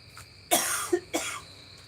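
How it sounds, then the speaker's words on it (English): Two harsh, close coughs in quick succession, with a faint chirping insect in the quiet background. "Y'all hear over there coughing, hacking up lungs over there?"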